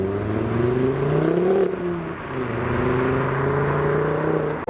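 A car cruises past at a custom car meet, its engine note rising and falling in a smooth, fairly loud whir as it goes by and turns down the road.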